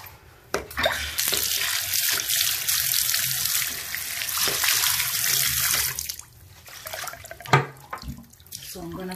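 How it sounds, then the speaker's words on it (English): Water rinsing a shower after a citric acid cleaning, a loud broadband splashing and spraying that runs steadily for several seconds, then drops off into quieter drips and handling sounds near the end. "Rinse well."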